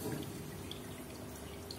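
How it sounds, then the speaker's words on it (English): Water trickles and drips steadily while being siphoned out of a betta fry tank during cleaning, a soft continuous close-up flow with no voices. "I just do some water siphoning cleaning."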